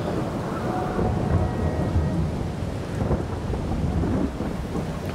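Steady, loud rain and a low continuous rumble of thunder in Farming Simulator 22, filling the whole stretch without a break, no voices.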